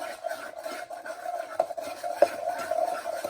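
Blonde brownie batter with vanilla being mixed by hand in a bowl, a steady close scraping and rasping of a utensil against the bowl with a few sharper knocks, no talking.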